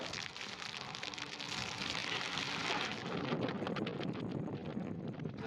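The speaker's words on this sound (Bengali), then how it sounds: "এরকম বৃষ্টি পুরো রাস্তাতে আছে।" Heavy monsoon rain pours down in Maharashtra, a dense, steady hiss that fills the whole stretch, with wind buffeting the microphone on top.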